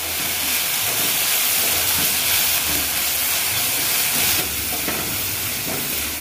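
Spices for dhaba-style bhindi masala (Kashmiri red chilli, coriander powder, turmeric, amchur and salt) roast and get stirred in a pan, a loud, steady, close sizzle with scraping stirs throughout.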